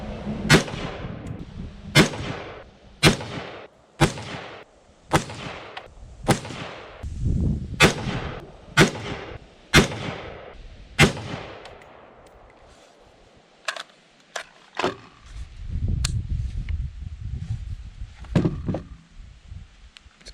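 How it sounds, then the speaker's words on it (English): A Bushmaster M4 rifle fires its final ten-round magazine at a target, sharp single shots at steady intervals with louder, near cracks and some fainter reports from other shooters farther off. "This is my last magazine, last 10 rounds."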